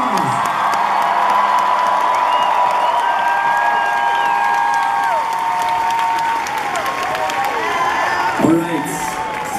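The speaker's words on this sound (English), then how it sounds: "Huge round of applause." A concert crowd applauds loudly and steadily at the House of Blues in Boston, with cheers and a few whoops mixed in, sustained throughout.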